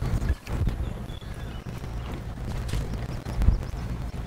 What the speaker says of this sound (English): I heard large footsteps and I don't like that. It's a ladybug.